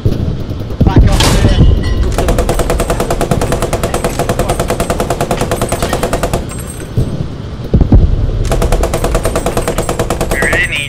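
Machine gun fire in the World War II shooter Post Scriptum during a Sherman tank assault, loud rapid sustained bursts with a brief pause mid-way, heavy thumps and explosions mixed in, and voices talking underneath.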